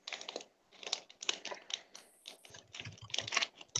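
A small plastic bag being cut open up close, with a rapid series of crinkly snips and rustles in quick irregular bursts.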